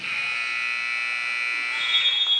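A loud, steady electronic buzzer sounds for a few seconds at the end of a period in a high school basketball game between the Paris Tigers and the Teutopolis Wooden Shoes, with faint crowd noise underneath.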